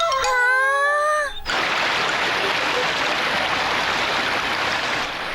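A cartoon waterfall rushes in a steady broad hiss after a brief rising whistle-like cartoon sound effect at the start, the water continuing loud and even to the end.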